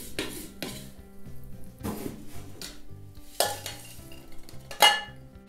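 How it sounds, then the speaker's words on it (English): Cooked breakfast food stirred in a Ninja Foodi pot, a few distinct scrapes and knocks of a utensil against the pot bottom, close, spaced irregularly over soft background music. "Go ahead and stir them up."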